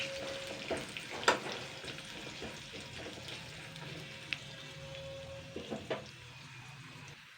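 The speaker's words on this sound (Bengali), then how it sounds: "কাঁচা বাদামটাকে ফ্রাই করে নেব জাস্ট দুই মিনিট মতন বাদামটাকে ফ্রাই করে নিতে হবে" Raw peanuts frying in oil in a pan as a start to a moringa leaf dish, a quiet steady sizzle with a few sharp stirring clicks and scrapes, faint and close, no talk.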